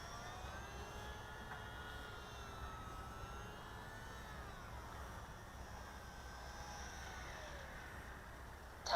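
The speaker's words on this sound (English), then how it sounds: "let's see if we can't bring her in for a relatively uneventful landing" A small RC ICON A5 model seaplane drones overhead as it comes in to land, a steady thin motor whine at moderate distance holding even throughout, with a brief louder burst at the very end.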